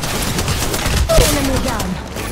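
Dense rapid gunfire from an Apex Legends match rattles loudly throughout, layered with game sounds and a voice talking over it.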